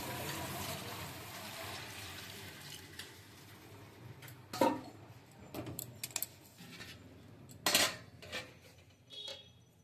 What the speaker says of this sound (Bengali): চাল আর ডাল দুটো একসঙ্গে ধুয়ে নিচ্ছি।